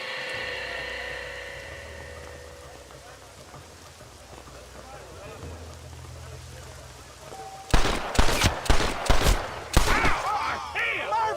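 Gunfire in the Western video game Red Dead Redemption: a quick volley of sharp, loud shots cracks out late in the clip after a stretch of low ambient rumble and hiss.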